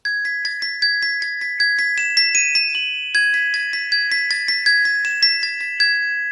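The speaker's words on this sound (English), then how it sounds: "And the Glockenspiel and sparkly sounds, and it sounds a bit like this." A glockenspiel rings out a bright, steady melody from the ballet Coppelia, each metal bar struck cleanly in a regular rhythm with short ringing decays, played alone and close.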